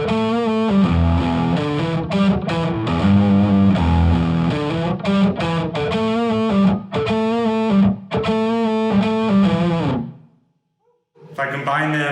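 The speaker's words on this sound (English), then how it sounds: "But when we add the distortion, you're going to get the tone that people tend to ooh and ah over." An electric guitar played through distortion for the band's tone, chunky sustained chords and riffs ringing loudly for about ten seconds, then a brief silence before it starts again.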